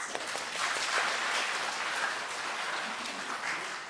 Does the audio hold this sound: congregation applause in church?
yes